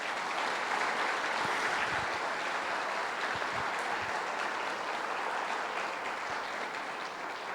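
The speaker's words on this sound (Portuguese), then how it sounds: "Vamos aplaudir Jesus pela vida deles?" Sustained applause from a church congregation, a dense steady wash of clapping that carries evenly for several seconds without pause.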